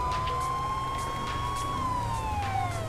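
A police siren in GTA 5 wails steadily, its tone sliding slowly up and down, loud and continuous with no voices.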